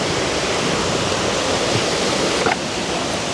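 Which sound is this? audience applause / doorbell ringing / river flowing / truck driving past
river flowing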